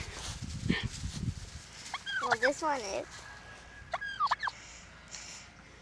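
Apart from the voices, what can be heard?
turkey gobbling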